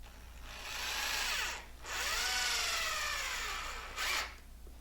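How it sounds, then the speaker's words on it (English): A power drill drives 2-inch screws through wood slats into a 2x4 underneath, with two long rising whirs, a brief pause between them and a short final burst, close and clear over a low background hum. "I come back with 2-inch screws and I screw all the slats onto the 2x4 underneath it."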